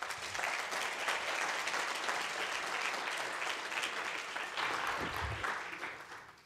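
A large audience breaks into sustained, loud applause at the MT180 2025 final at ULB, dense clapping holding steady for several seconds before beginning to thin out at the end.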